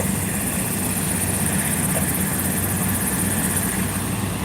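Steady, loud whirring roar of a medical helicopter on a highway, constant throughout with no pauses.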